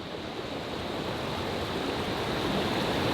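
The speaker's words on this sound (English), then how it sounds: "look at the power behind the falls" Rushing water pours steadily over the Charles River falls at Waltham beside an old mill building, a constant broadband roar close by with no talk.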